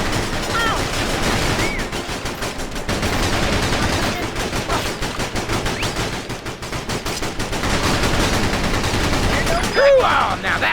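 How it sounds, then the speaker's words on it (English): Dense gunfire fills a firefight in the GameCube video game Battalion Wars, with rapid machine-gun bursts and overlapping shots continuing throughout, loud and busy, with a voice faintly mixed in. "now that's what I call a firefight"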